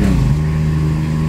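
VW Polo TSI with manual gearbox, engine note dropping and steadying through a gear change from third to fourth, a close, continuous hum inside the car.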